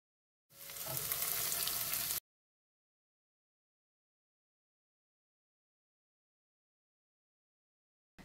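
A short, loud burst of sizzling as sun-dried tomatoes and tomato paste hit a hot pan, cutting off abruptly into silence.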